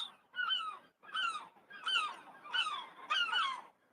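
Seagulls nesting with chicks on a roof squawk in a rapid run of five or six harsh, wailing calls, fairly close and evenly paced, with no talk over them.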